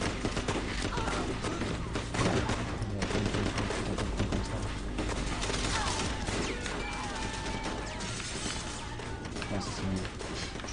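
Gunfire from the Sleeping Dogs video game, a dense run of shots and impacts layered with crashes and other game noise, continuing steadily throughout at moderate level.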